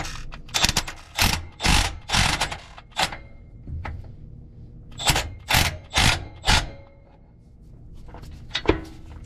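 A ratchet tightens overdrive mount bolts on a transmission, giving several rapid bursts of sharp clicking strokes separated by short pauses, close and clear, with no talk.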